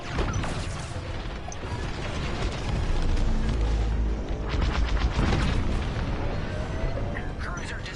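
A cruiser being destroyed in Star Wars: Squadrons, with continuous loud explosions, crashing booms and rumbling blasts layered over one another, under battle noise and occasional radio voices.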